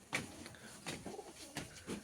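Pigeons coo softly from a rooftop loft, a few low throaty calls at irregular intervals, fairly distant and faint, with no talk.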